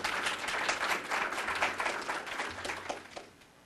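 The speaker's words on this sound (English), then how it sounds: "If we can give Terry a round of applause" An audience at a county budget presentation claps steadily in a dense, fairly distant round of applause that gradually fades toward the end.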